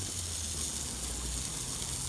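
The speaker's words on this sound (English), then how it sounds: "That is the sound of a Tesco Finest test burger actually cooking at a reasonable rate." A Tesco Finest burger sizzles on an ArgenTeeny mini parrilla grill over embers, giving a steady, even hiss with a soft low crackle underneath, close and continuous with no talking.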